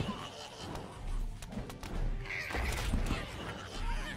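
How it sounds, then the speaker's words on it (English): An explosion trap in Terraria goes off again and again, producing muffled thuds and slam-like bursts at uneven intervals over a constant low rumble of game sound. "the explosion trap keeps exploding"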